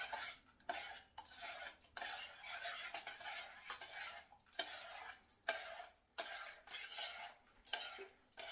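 A chapati mixture is stirred in a bowl, giving repeated quiet scraping and knocking strokes in an uneven rhythm, close by with no talking.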